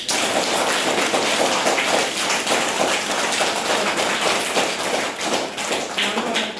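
Children and guests clapping for a teacher at a school abacus inauguration ceremony, a dense, even rattle of many hands that holds steady and close throughout, with a faint murmur of voices beneath.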